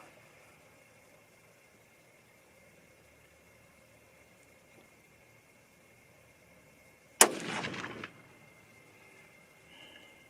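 A single sharp .243 Winchester rifle shot loaded with Ramshot Grand powder cracks loud and close, then a brief rumbling echo fades within about a second over otherwise quiet surroundings.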